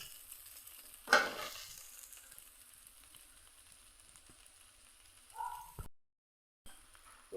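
Plantain poriyal is stirred in a kadai over low heat, starting with one sharp scrape and then a quiet, faint sizzle, with a few soft clinks of the spoon and a short moment of silence near the end.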